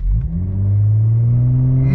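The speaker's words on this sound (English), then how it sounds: "That's how I successfully launched my B9 S4" An Audi B9 S4 revs hard against the brakes at launch, a loud, close engine roar climbing steadily in pitch over two seconds.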